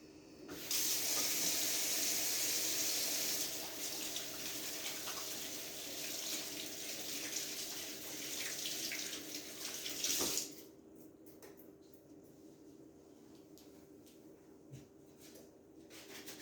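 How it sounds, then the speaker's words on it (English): A kitchen tap runs in a strong steady rush for about ten seconds while hands are washed beneath it, then shuts off, leaving faint drips and quiet handling. "We're going to wash our hands, and we're going to get started on our apple ham pies."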